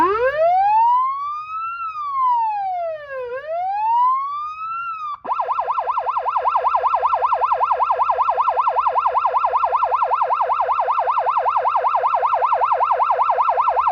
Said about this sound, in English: there's a little kid sitting in that fire truck, so Tony's gonna let him blow the siren